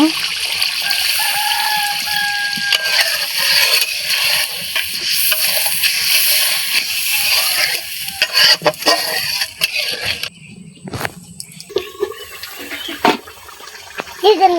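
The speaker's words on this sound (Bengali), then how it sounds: "মাছটাতে একটু পানি দিয়ে দিব" Water poured into a pan of sautéed pangas fish sets off steady, loud sizzling and hissing that lasts most of the clip, then breaks into sputters and quieter bubbling, with voices talking over it in a village kitchen.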